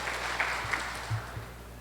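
A seated seminar audience gives brief applause that sounds as a steady wash of clapping, moderately loud and fairly distant, fading slightly toward the end.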